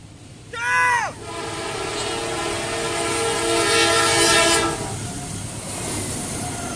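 A train passes a railroad crossing on one of two tracks, its horn blaring in a falling chord near the start, then a loud steady rumble and rolling roar that builds and fades away.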